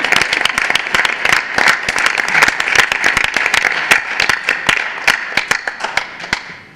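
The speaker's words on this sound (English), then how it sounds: "Well, one last round of applause." A room of attendees at a school board meeting gives a closing round of applause, many distinct claps rattling close and loud at first, thinning toward scattered hits as it fades out.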